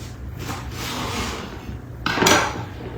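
A knife works through watermelon rind on a cutting surface, giving soft scraping and rasping strokes up close, then a sharper, louder cut near the end.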